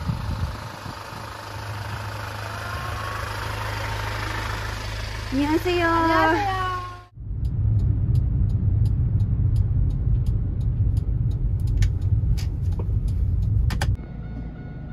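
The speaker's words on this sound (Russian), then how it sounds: "Автобус приехал." A bus pulls up and sits idling at a stop, its diesel engine a steady low rumble with a brief squeal of brakes as it halts, then a continued close idle while a person speaks a word over it.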